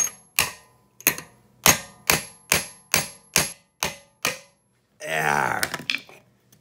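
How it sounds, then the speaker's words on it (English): A hammer strikes the axle of a Profile or Madera rear bicycle hub during a rebuild: nine sharp, ringing metallic blows at a steady rhythm, each fading quickly, followed by a brief grinding rattle. "it doesn't tell you to hit the axle with a real hammer"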